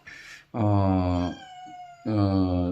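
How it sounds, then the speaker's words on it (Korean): A domestic cat meows insistently indoors at home: a brief cry, then two long, loud, drawn-out meows close to the listener with a short pause between them. "제가 집에서 이렇게 같이 살고 있는 고양이가 왜 이러는지 모르겠네"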